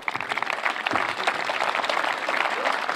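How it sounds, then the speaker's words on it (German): Loud, dense applause from an audience fills the whole stretch, steady and continuous, at a sports event hosted by a moderator in Salzburg. "Auch hier nochmal einen kräftigen Applaus"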